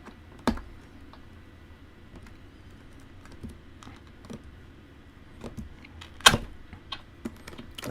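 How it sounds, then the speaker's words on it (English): Cardboard box lid held up by its tabs during an unboxing of a Behringer studio pack, faint scattered ticks and small creaks and taps close by, with a couple of sharper knocks in a quiet room. "That's just the sound of the cardboard tabs holding the lid up."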